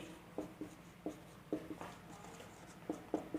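Chalk writing on a board during a maths lesson produces soft, quiet taps and short scratchy strokes in an irregular rhythm, spaced across a few seconds with no talk.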